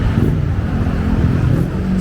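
A Honda big bike motorcycle engine idles with a steady, close, low rumble that holds even and loud throughout, with no distinct revs standing out.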